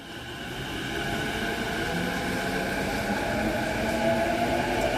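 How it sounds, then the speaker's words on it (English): A train rumbles steadily past in Japan, with a sustained low roar and drawn-out metallic tones holding throughout, fairly loud and continuous. "That was the train."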